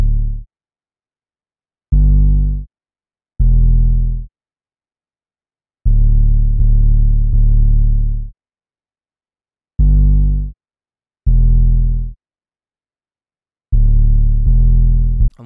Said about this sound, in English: The first thing I added was just the hard 808s that sound like this.